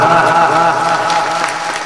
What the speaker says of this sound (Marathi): दोन्ही पखवाजासाठी एकदा सर्वांनी मनापासून टाळी वाजवा